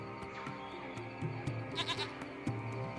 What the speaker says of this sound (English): It's a small goat. It appears to be hiding underneath the hut.